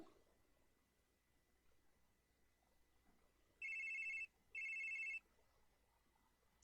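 A telephone rings at night in the game The Case Book of Arne, two clear electronic bursts of ringing that stand out against a near-silent background.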